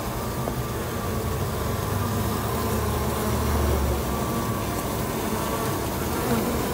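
Stingless Bugia bees swarm at their hive, a steady dense buzzing drone that stays close and loud throughout, with no talk.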